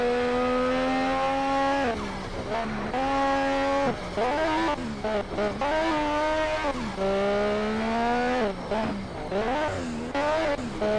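Race cars roar around a track in Need for Speed: Shift 2 Unleashed, their engines whining up and down through gear changes with occasional tire squeal, loud and close.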